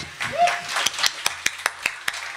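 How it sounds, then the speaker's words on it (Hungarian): Scattered hand claps ring out at a live club concert, a handful of sharp separate claps spaced irregularly, with voices and a brief whistle-like tone near the start. "külön tapsot kérni Fejvári Balázsnak is"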